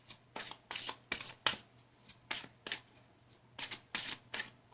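A deck of cards is shuffled close up in repeated quick riffles, each burst of fluttering clicks separated by short pauses, with no talking.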